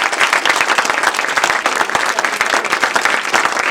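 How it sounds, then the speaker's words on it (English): Wedding guests break into a round of applause during the reception speeches, a loud, busy patter of many hands clapping close by, with sharp individual claps standing out and no talk over it. "a big round of applause"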